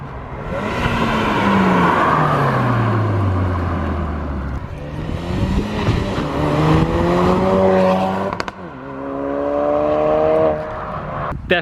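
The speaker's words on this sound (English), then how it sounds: "can hear that turbo already." Engine and turbo of a 2017 Ford Focus RS heard from outside, a loud throaty roar sweeping past with pitch falling, then rising again through gear changes, with a sharp shift crack near the end.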